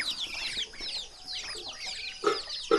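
Chickens cluck and call at a rural morning feeding, with ducks among the flock; overlapping bird chatter runs throughout at moderate distance, with two louder, sharper calls close by near the end.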